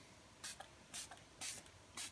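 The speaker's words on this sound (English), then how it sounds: "you just simply spray the nutritions, which you can use the soil conditioner" Four short bursts from a spray bottle misting liquid nutrient or soil conditioner over aquarium plants growing in a dry start, evenly spaced roughly every half second, close and crisp against a quiet background.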